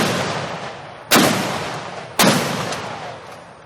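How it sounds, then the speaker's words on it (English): Two booming cannon shots from ceremonial howitzers of the Military District of Washington, fired about a second apart as part of a 21-gun salute at a presidential inauguration, each followed by a long rolling echo outdoors. "There is then a 21-gun salute from the howitzers of the Military District of Washington."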